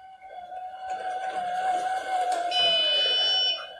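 A yarn counter gives an electronic beep as it reaches its count and shuts off a spinning cone winder, a steady tonal signal over the winder's hum, with faint talk underneath.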